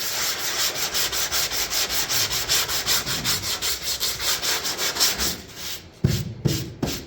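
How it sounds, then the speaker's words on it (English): Hand sanding bare metal on a Chevrolet C10 body panel during dent repair, with rhythmic back-and-forth rasping strokes, close and loud, that stop near the end, followed by a few knocks and handling noises. "You want to sand the metal you have, so don't push down hard."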